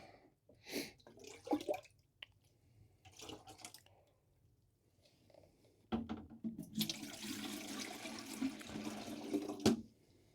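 Water poured around the edge of a freshly transplanted clone's pot, a steady splashing pour starting midway and running continuously after a few faint handling sounds.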